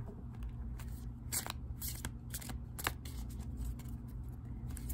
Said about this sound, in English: So I'm going to shuffle these cards well.